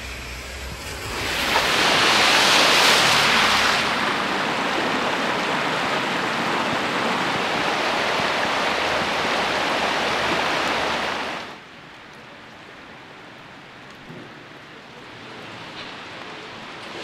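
Steady rain pours outdoors in a broad, hissing wash that swells loud for a few seconds, holds, then drops abruptly to a softer, quieter patter.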